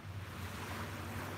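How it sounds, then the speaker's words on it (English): Ocean waves on a beach at sunrise, a steady close wash of surf with soft wind noise on the microphone, no voices. "the ocean, or the sound of the waves is really relaxing this morning"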